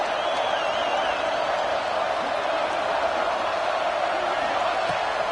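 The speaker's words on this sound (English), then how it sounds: "this crowd is electric trying to stop them" A stadium crowd at a football game roars in a dense, steady wash of noise during a two-point conversion attempt, loud and continuous with no individual voices standing out.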